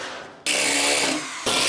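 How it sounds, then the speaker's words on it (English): Power drill boring out spot welds in sheet metal at a welding table, a loud, close, high whining grind in two bursts separated by a short dip. "We'll go ahead and drill out these 4 additional spot weld holes."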